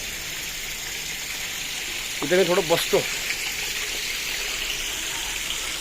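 Water from a sacred natural spring pours from a tap, a steady broad gushing rush heard throughout, with someone speaking briefly over it midway.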